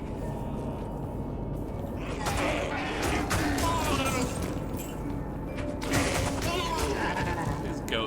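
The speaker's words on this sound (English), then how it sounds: "These goat sounds, man." Goat bleats from the Diablo 2 video game, repeated cries rising over a dense, steady game soundscape with clattering mechanical noise throughout.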